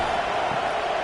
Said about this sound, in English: Listen to this crowd begging its defense to get a stop